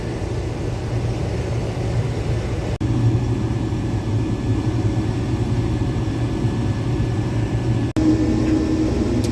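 A combine harvester cuts soybeans in a field, heard as a continuous low engine and machinery drone with a steady rumble that stays constant throughout, broken only by two brief dropouts.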